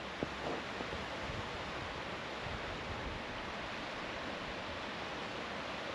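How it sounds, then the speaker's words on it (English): A waterfall at Devils Backbone in Camden, Ohio, pours in a dense, constant hiss and rumble that stays loud and even throughout, with no voices. "More waterfalls."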